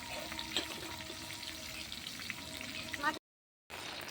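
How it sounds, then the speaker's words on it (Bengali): Rohu fish heads fry in oil on a clay stove outdoors in the rain, a steady moderate sizzle with small crackles that cuts out briefly and resumes. "মাছের মাথাগুলো লাল করে ভেজে নেবো"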